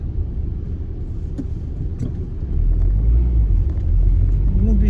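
A Renault Scenic car's engine runs with a steady low rumble, growing somewhat louder partway through, heard from inside or close by with a few faint background knocks.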